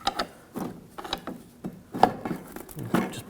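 A pry bar levers the rear driveshaft of a 2007-2013 BMW 328i 3.0L L6 forward, giving a run of close, irregular metallic clanks and knocks.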